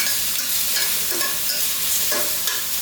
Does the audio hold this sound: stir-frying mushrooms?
yes